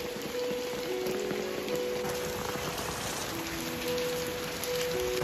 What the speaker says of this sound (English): Raining like anything.